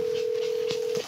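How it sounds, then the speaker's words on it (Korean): A telephone call being placed, heard as a single steady ringback tone lasting about a second and then cutting off, loud and close, with faint background noise and no talk. "전화라도 해볼까요 엄마한테?"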